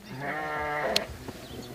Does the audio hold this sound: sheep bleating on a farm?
yes